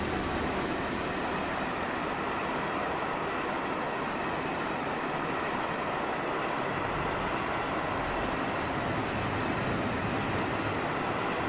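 A car transporter train rolls into a station on the Bremen–Osnabrück line, a steady, continuous rumble of wheels and wagons that holds at an even level throughout, with no voices.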